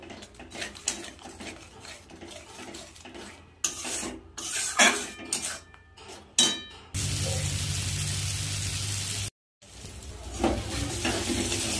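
Spice paste for a Bengali pabda fish curry frying in a pan with tomato, scraped and stirred in uneven rasping bursts, then a steady loud sizzle for a few seconds, a brief silence, and more stirring scrapes.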